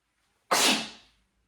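A single sharp, close sneeze from a person indoors at home, bursting loudly and trailing off quickly into silence.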